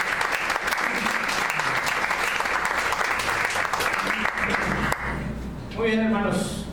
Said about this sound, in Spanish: ¿Quién le puede dar un fuerte aplauso a Cristo?